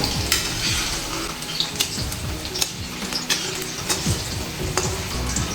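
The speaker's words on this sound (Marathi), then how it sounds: "तळून घ्यायचे आहे अगदी हलक्या हलक्या तळायच्या" Garlic frying gently in hot oil for Diwali garlic sev, a steady soft sizzle with light crackles and occasional stirring clinks from a utensil, close and continuous, no talk.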